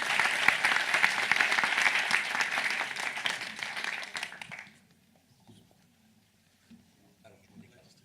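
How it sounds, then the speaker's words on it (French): A conference audience on Casablanca's architectural heritage applauds the speakers with dense, loud clapping for about four and a half seconds, then it stops abruptly, leaving a quiet room with faint shuffling. "Merci, vous pouvez les applaudir."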